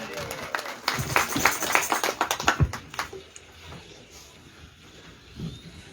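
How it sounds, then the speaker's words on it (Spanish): A church congregation claps its hands in praise during a worship service, giving a burst of rapid, uneven clapping that fades after a few seconds into quieter room noise with faint talk underneath. "Dale fuerte palmas al Señor."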